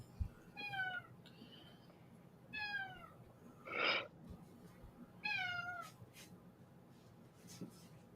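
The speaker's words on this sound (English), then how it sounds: "black cat." A black cat meows three times, whining for attention, with a sharper yowl in the middle; the calls are close and fairly loud over a quiet indoor background, with soft voices briefly audible.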